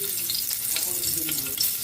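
Garlic sautéing in hot oil for pork menudo gives a close, busy sizzle with crackling pops and some stirring scrapes, constant throughout the short stretch.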